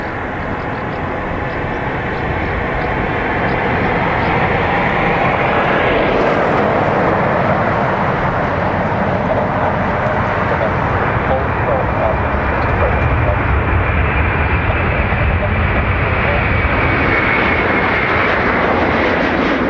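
An Aer Lingus airliner departs Dublin Airport, its jet engines producing a loud, steady, continuous roar that fills the whole stretch, close and dominant.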